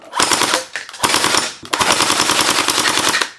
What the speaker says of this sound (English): you can hear the rounds coming out way faster. 12 rounds per second is no joke